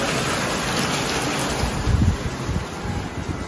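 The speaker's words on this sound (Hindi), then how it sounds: "बाहर बारिश फुल जोर में चालू है, देखो बारिश" Heavy rain pouring outside, a dense continuous hiss with low rumbling gusts, steady and fairly loud, with no talk.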